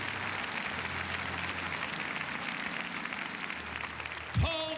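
A church congregation applauds in praise, a steady wash of many hands clapping that fills the room throughout and ends with a brief sustained tone.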